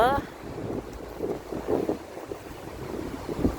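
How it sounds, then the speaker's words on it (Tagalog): Loud, gusty wind buffeting the microphone in a continuous roar in a park, with a voice faintly audible beneath it. "ngayon, sobrang lakas ng hangin"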